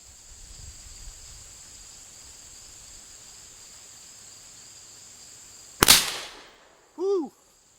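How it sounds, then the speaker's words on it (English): An Umarex Hammer air rifle fires one sharp, loud crack near the end after a long quiet stretch of faint outdoor insect chirring, followed by a brief ringing tone. "We'll take the second shot here"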